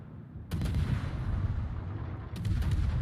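Naval guns fire in the World of Warships game during a Halland destroyer match, with two sharp booming salvos about two seconds apart over a dense, rumbling battle din.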